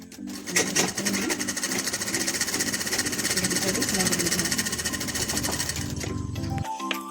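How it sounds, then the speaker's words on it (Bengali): A sewing machine stitches a baby frock with a steady, loud mechanical whir and fast needle chatter that runs almost unbroken, then cuts off abruptly near the end. "এটা দুদিকেই আমি এইভাবে সেলাই করে নেব।"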